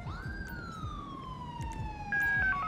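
An ambulance siren in the video game GTA 5 wails as one long rising then slowly falling tone, close and prominent over a low rumbling background, with no speech.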